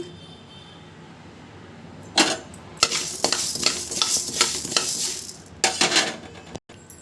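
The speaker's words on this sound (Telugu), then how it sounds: "ఇలా ఈ విధంగా కలర్ వచ్చే వరకు ధనియాలని బాగా వేయించుకోండి" Coriander seeds dry-roasting in a pan, stirred with a rattling, scraping rhythm of seeds and utensil against metal, loud and close over a faint background hiss.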